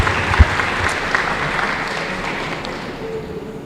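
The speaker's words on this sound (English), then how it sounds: "So give yourselves a round of applause for that." Students at an inter-school debate applaud the presenters, a continuous round of clapping with a couple of louder claps near the start, tapering slightly toward the end.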